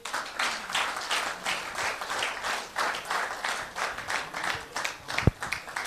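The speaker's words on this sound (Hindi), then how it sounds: "इन खोजियों के लिए तालियां होनी चाहिए।" An audience applauds a group of distributors at an indoor business training session, steady clapping from many hands filling the room without a break, with one sharp brief knock near the end.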